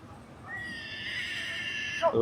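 A horse gives a single long, high whinny that rises and then drops off sharply at the end, fairly close and clear, at the Jagraon horse fair.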